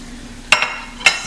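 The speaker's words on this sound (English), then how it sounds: "You hear it sizzling." Two sharp hissing sizzles as chicken is dropped into a hot pan, each followed by a fading crackle, close and fairly loud.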